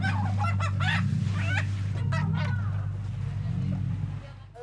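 Live chickens at a poultry market cluck and squawk in close, repeated bursts over a constant low mechanical hum.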